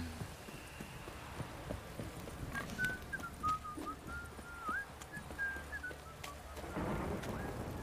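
Steady rain with low rumbling thunder in The Witcher, a continuous storm bed under faint game effects and a thin whistling tone midway.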